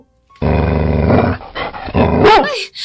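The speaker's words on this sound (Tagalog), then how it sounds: "Baka kagating kayo ng aso!" An angry dog growls and snarls loudly in long, close rumbling bursts, ending in a higher yelp.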